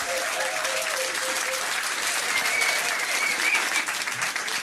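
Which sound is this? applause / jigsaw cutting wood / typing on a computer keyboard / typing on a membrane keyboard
applause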